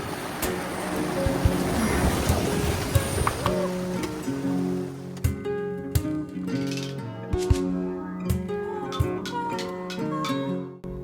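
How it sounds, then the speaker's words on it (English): Water laps and trickles around a slow-moving bamboo raft on a river near Yangshuo, Guilin, with soft knocks and creaks of bamboo and a low hum of the surroundings. "These bamboo rafts have been the traditional way people have navigated these rivers for generations."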